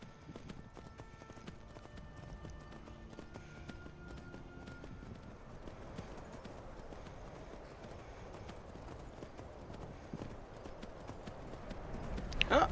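Horse hooves clip-clop in the Skyrim VR video game, a steady run of quick hoofbeats at moderate distance over soft background game ambience and faint musical tones.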